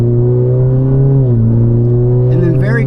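A turbocharged Alfa Romeo Giulia 2.0T fitted with an aftermarket big turbo, exhaust and tune holds a loud, steady engine drone whose pitch dips midway, with brief whistly, airy noises near the end.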